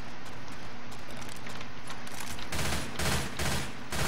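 Video game gunfire rattles in rapid bursts, with broadband shots building to heavier, louder volleys in the second half.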